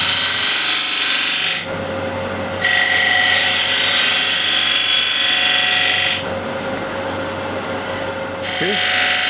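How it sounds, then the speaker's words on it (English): A wood lathe spins steadily while a 1/2 inch spindle gouge cuts a cove, giving a continuous hissing, scraping tone that rises during two stretches of cutting and eases between them. "I'll use 1/2 inch spindle gouge. Let's see, let's make the cove here first."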